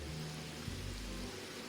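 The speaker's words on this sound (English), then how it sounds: "But today's rain feels different." Steady rain falls in Wuthering Waves, a continuous soft hiss with a low rumble underneath, holding at an even level with no voices.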